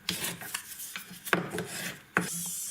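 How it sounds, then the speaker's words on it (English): A Shofu Greenie abrasive wheel polishes a stone-set huggie earring, giving repeated short rasping bursts of grinding contact, close and fairly quiet, with brief pauses between passes and no talking. "This abrasive wheel that I'm using now is called a Shofu Greenie"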